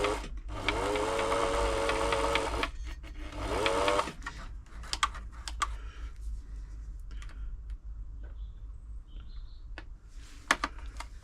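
A Singer 6104 sewing machine runs in two steady, close whirring spells after oiling, followed by quieter clicks and handling noises.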